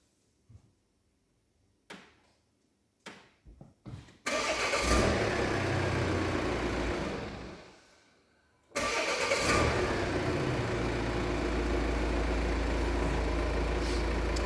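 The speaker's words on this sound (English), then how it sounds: "Okay, turn the engine on" A modern car engine cranks with a few short bursts, starts, settles into a loud steady idle, briefly drops away, then restarts and runs steadily, heard close up inside the car.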